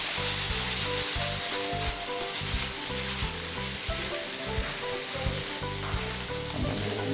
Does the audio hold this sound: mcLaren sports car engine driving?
no